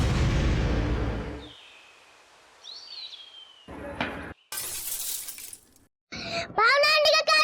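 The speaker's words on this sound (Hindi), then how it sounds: "भावना आंटी का कांच फट गया" Glass shatters in a sharp, bright crash with scattered pieces falling, set among loud voices, a whistling tone and a resonant ringing at the end.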